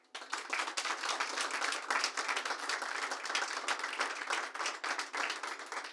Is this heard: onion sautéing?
no